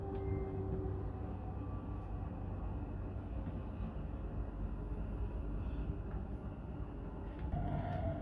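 A Dubai Metro train runs on its rails, giving a steady, continuous rumble and rolling hum from inside the carriage, with no talking.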